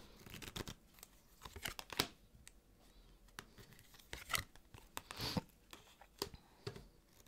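Tarot cards shuffled and laid out on a table, giving soft slides, flicks and papery snaps in an irregular run of close, quiet taps and rustles.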